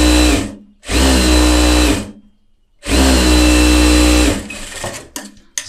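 A sewing machine runs a rough tacking stitch through folded fabric at a tailoring bench. It makes two loud, close bursts of rapid mechanical whirring, each about a second or so long, separated by a short pause, with no voices.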